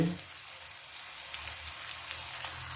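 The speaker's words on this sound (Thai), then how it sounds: "อันนี้เราทอดให้ดูชิ้นนึงก่อน" A single pork-filled wonton frying in oil over medium heat, giving a steady, dense crackling sizzle with a faint pop at the start, close and continuous with no talking.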